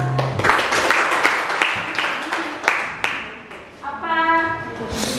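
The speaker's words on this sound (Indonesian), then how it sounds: "Tepuk tangan dulu." Class applause rising in a sustained burst of many hands clapping, with a voice heard partway through and a brief musical tone near the end.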